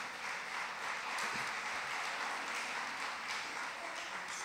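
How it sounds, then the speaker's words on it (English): An audience at a college convocation applauds in a hall, a dense, sustained wash of clapping heard from a distance and fairly faint, swelling slightly in the middle and continuing steadily without voices over it. "Yes, clap."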